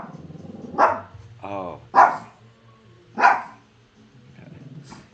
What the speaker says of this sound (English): that delivery person's about to run from the barking